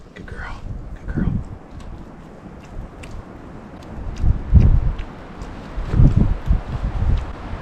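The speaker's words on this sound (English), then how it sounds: "the wind's killing us" Wind gusting on a mountain, buffeting the microphone with low rumbling surges that swell and fade, while people speak faintly in the background.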